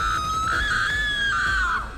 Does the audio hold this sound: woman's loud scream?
yes